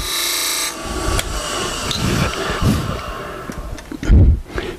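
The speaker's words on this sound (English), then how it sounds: "That last little cut is the delicate one because the wood is coming straight across the top of the tool" A wood lathe spins as a tool cuts a bead into the turning wood, a steady motor hum under scraping, rasping contact that swells in brief bursts, ending with a louder rough scrape.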